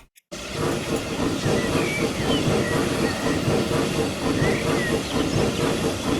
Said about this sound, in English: There's our first train up and running.